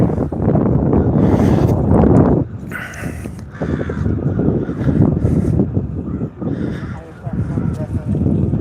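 A large flock of crows cawing outdoors while riding an electric unicycle, harsh calls repeating over strong wind noise, with a person speaking nearby.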